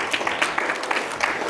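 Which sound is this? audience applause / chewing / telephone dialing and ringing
audience applause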